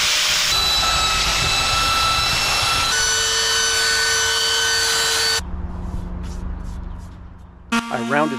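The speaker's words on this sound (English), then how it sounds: "just going to hit those with a grinder just to get them down" Power grinder working down raised spots on a wooden vintage baby block photography prop, a loud steady whine and hiss that holds for several seconds, then drops away to quieter workshop noise and a brief rising tone at the end.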